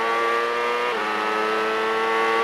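A CART race car at the 1998 Rio round screams at high revs, its engine pitch dropping sharply on an upshift partway through, then climbing steadily again, loud and sustained with no voices over it.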